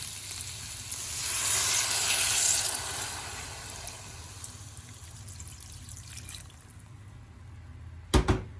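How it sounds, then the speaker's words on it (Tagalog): Water poured into a pan of sautéed ingredients for miki bihon sets off a loud hissing sizzle that swells, then settles into a quieter bubbling simmer, ending with a sharp metallic clank. "ilagay na natin ang water."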